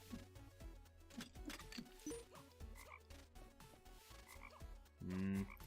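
Frog croaking in the Micetopia video game, several croaks spread through the clip over layered game music, with a louder burst near the end.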